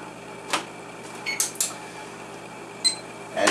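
Several short sharp clicks and electronic beeps come from an oven control panel as the temperature is set to 450 degrees, spaced irregularly over a quiet kitchen background.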